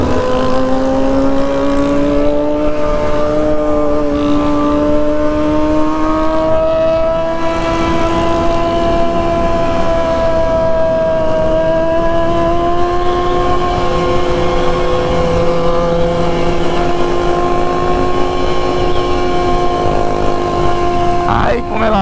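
A Honda Hornet motorcycle with only a bare exhaust pipe roars loudly and continuously during a nighttime group ride. Its revving pitch rises and falls as the bikes move together.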